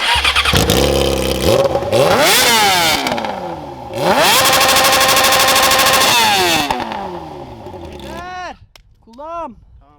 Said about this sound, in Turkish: Şöyle son bir kez basıyorum marşa. Patlatacak kadar patlatıyorum artık.